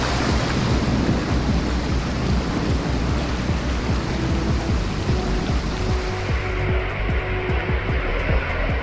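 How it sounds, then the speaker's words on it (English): Floodwater from a failed dam embankment rushes as a loud, continuous roaring torrent with dense turbulent noise, steady throughout and no voices. "the water eroded the embankment and streams rushed into nearby settlements."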